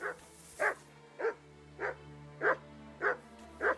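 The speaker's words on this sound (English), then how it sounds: "What are you barking at?" A dog in Kingdom Come: Deliverance II barks repeatedly in single sharp woofs about every 0.6 seconds, moderately close, over a low steady background hum with no talk.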